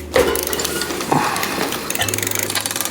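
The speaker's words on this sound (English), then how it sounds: "There's just not a lot of room for the wrench." A ratchet wrench clicks while turning on a bike part, a close, loud run of rapid mechanical ratcheting with a couple of sharper knocks, no voices present.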